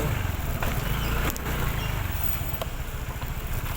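A motorcycle rides over a rough, pothole-filled road in Leyte, with steady engine drone, wind and rattling jolts heard close, without speech.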